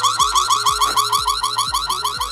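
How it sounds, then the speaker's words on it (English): A home security camera's built-in alarm blares at close range, a loud, rapidly repeating electronic warble that cycles steadily with no other sounds. "I think it's an alarm."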